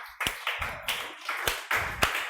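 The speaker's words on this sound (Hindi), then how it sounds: "अपने लिए जोरदार एक बार तालियां बजाइए" Students in a face-to-face Company Law coaching class give a burst of loud, close applause, about six sharp clustered claps spread evenly over two seconds.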